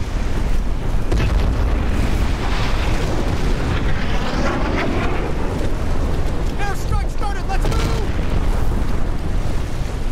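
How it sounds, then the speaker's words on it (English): Rumbling explosions and artillery blasts in Crysis boom through a dense, continuous roar of battle, with heavy low-end thuds over a constant wash of noise. "Got jets, explosions."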